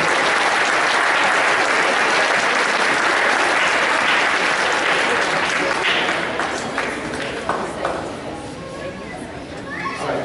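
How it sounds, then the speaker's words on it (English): A middle school spring band concert audience applauds Sarah Gavin with loud, dense clapping that holds for several seconds and then tapers off, with some crowd chatter as it fades. "So give a round of applause for Sarah Gavin."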